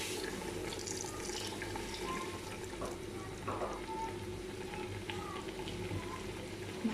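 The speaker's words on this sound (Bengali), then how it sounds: "আর কিছু পানি অ্যাড করব।" Water runs steadily into a pot of beef biryani with parboiled rice cooking on the stove, a continuous faint splashing and gurgling with a few small knocks.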